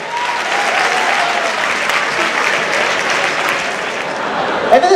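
An audience at a stand-up comedy show applauds, a steady, dense wash of clapping held for several seconds, loud and close, with a few sharper claps near the end.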